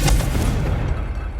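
Loud, close booming blast from the Confringo fire spell in Hogwarts Legacy, with a sharp onset and a rumbling tail that fades over about a second.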